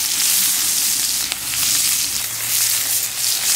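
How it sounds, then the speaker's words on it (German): Onions sautéing in a pan on a Pyron outdoor cooker for Moroccan meatballs, a loud, steady sizzle and hiss throughout with a faint clink partway. "jetzt werden die Zwiebeln angeschwitzt"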